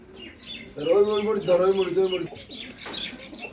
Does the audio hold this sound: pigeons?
yes